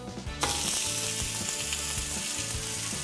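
A sous vide steak burger patty hits a searing hot surface with a sudden loud sizzle that stays strong and steady close by, with faint rhythmic hum beneath.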